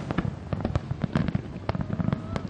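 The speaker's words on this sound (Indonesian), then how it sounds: "Gabungan antara kembang api dengan atraksi drone ini ditampilkan sebagai sebuah pertunjukan musikal berdurasi 12 menit." A New Year fireworks display over a beach in the UAE, set alongside a drone show, sends out dense, rapid crackling bangs and pops in an uneven barrage, loud and continuous throughout.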